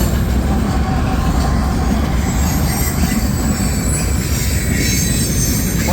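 A CSX mixed freight train with a distributed power unit rolls past close by in Homestead, Pennsylvania, with a loud, steady rumble of cars and wheels and high squealing from the rails throughout.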